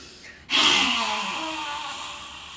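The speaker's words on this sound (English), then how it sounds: "Breathe in." A single deep, breathy inhalation during a qigong session, rising suddenly and then slowly fading over about two seconds, close and clear.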